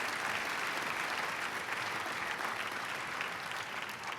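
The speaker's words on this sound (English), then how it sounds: "Will you please give our Friends of Education sponsors a round of applause." Gala crowd applauding event sponsors at an education leadership award dinner, a dense, even wash of clapping from many hands that holds steady throughout, moderately distant.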